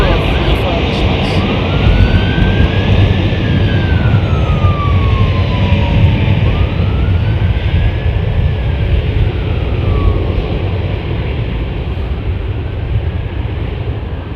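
A 28-year-old airliner departs London Heathrow Airport, its loud, sustained jet roar filling the air with rising and falling engine whine, heard close and continuous throughout.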